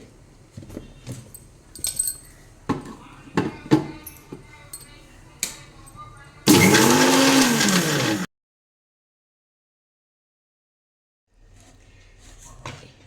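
A mixer grinder whirs through sesame cucumber chutney with jaggery powder in one loud, steady burst of about two seconds, following quieter clatter and kitchen handling, then silence.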